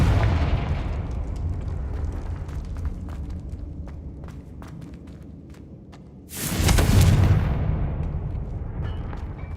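Confringo, an explosive spell in the video game Hogwarts Legacy, bursts with a single loud booming blast partway through, standing out from a bed of continuous game ambience and music.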